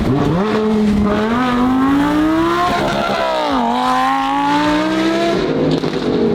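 Supercharged widebody Lamborghini accelerating, a loud, close engine note climbing steadily in pitch through the gears with a brief drop at a shift, while people talk faintly underneath.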